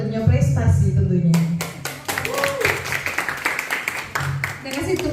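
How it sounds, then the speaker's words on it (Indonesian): An audience claps in a burst of applause at a school teachers' dissemination session on positive culture, with a speaking voice heard before and after the quick, scattered claps. "Terima kasih, tepuk tangannya luar biasa ya."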